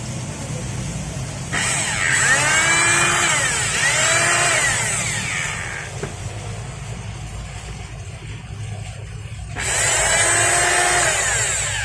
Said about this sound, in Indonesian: saya ada servisan mesin bor beton untuk bobok beton